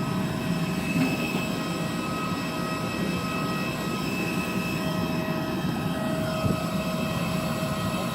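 Steady, loud engine drone of an airplane at an airport during boarding, a continuous whining roar with tonal hum that holds level throughout, with no talking.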